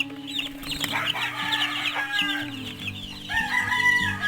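Plymouth Rock chicks in a brooding pen give dense overlapping high peeps and chirps, continuous and close, with no talk over them.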